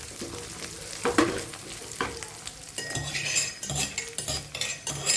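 Peanuts and curry leaves stirred in a frying pan for a Gujarati fasting handvo, with sizzling oil, spoon scrapes and metallic clinks against the pan, close and fairly loud, no talking.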